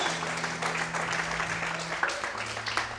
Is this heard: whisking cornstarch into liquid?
no